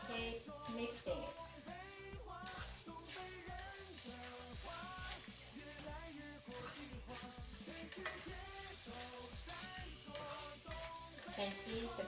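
Spicy beef stir-fries in a wok over high heat with constant tossing. A loud, close sizzle rises and falls with each toss, and the scrape of a spatula on metal runs through it.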